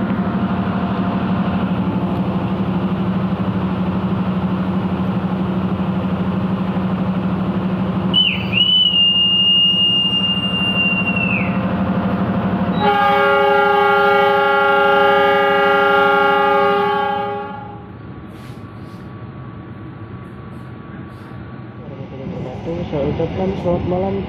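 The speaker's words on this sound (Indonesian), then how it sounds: "berangkat kereta api KA Komuter Pasuruan dari stasiun Pasuruan" The KA Komuter Pasuruan commuter train, hauled by a G20-livery locomotive, idles with a low engine drone at Pasuruan station at night. A brief high whistle comes first, then a loud, sustained horn blast of several seconds before the engine noise fades.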